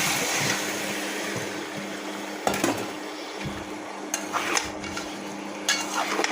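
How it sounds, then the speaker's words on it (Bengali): Chopped cucumbers are stirred in a pan over low sizzling heat, with a spoon scraping and clinking against the metal in several sharp taps. "এখন একটু ভালোভাবে নেড়ে চেড়ে ভালোভাবে কষিয়ে নিচ্ছি।"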